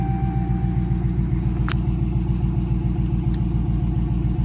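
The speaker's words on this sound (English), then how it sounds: "we just gonna let the car run for a good 5 minutes before we drive it" A Dodge Charger RT engine idles steadily in a close, loud, even rumble with a regular pulse, with no voices, and a couple of faint brief clicks over it.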